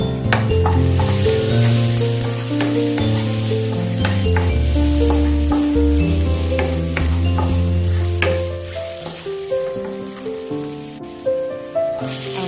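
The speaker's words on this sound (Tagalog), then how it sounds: "in a hot pan, add the cooking oil and saute the garlic" Garlic and red chili sauté in hot cooking oil in a pan, a steady sizzle under clear, sustained background music, with faint stirring ticks as the music thins near the end.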